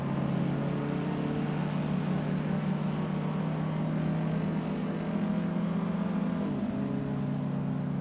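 Ferrari Tipo 500 race car engine screaming at high revs during a race at Monza, a loud steady drone with shifting pitch and a brief dip near the end as it passes and overtakes other cars.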